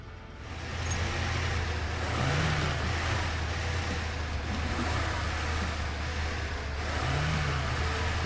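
An off-road truck drives through the Little Colorado terrain in MudRunner Expeditions with a steady, droning engine rumble that stays loud and continuous and swells gently as the throttle changes. No one speaks.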